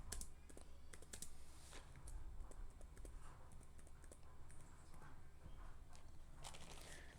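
Rapid, faint clicking of a computer keyboard as text is typed into a React code editor, a continuous patter of keystrokes over a low room hum.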